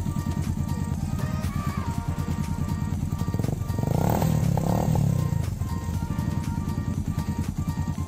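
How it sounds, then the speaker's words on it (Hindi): Suzuki GS 150 converted into a cafe racer with a modified exhaust, its 4-stroke air-cooled engine idling in a loud, rapid, even thump, swelling briefly with a throttle blip before settling back, no talk over it. "ये एग्जॉस्ट चेक करते हैं,"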